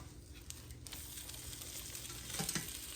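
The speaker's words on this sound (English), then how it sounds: "Okay, I'm going to flip them over." Omelettes sizzle and fry in a hot frying pan as they are flipped over, a steady close crackle with a brief soft knock of the turn near the end.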